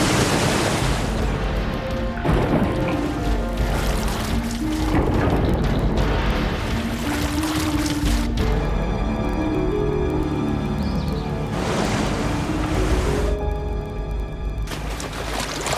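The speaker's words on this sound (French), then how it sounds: "Il n'y a rien d'autre que les vagues." Ocean surf churns loudly and continuously in repeated heavy surges, with voices mixed into the roar of the waves.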